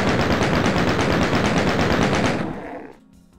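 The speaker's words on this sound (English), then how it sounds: "Chain gun just in case." A chaingun fires in the video game Doom 2, a rapid, evenly spaced stream of loud shots for over two seconds that then stops abruptly, leaving quiet game ambience.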